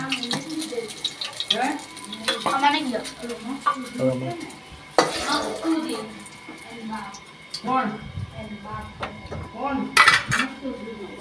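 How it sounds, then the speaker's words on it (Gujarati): Onion fries in a pan after chillies, with a sizzle under frequent clinks and scrapes of a spoon stirring against metal, while a voice talks over it. "ડુંગળી ફ્રાય થાય છે."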